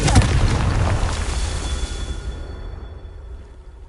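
A fantasy blasting-spell explosion from the Harry Potter world: a loud, deep boom bursts at once and then rolls away into a long fading rumble over nearly four seconds, with no talking.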